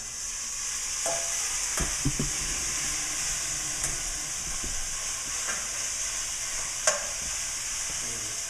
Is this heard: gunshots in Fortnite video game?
no